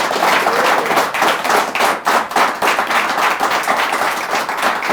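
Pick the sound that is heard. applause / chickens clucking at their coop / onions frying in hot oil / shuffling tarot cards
applause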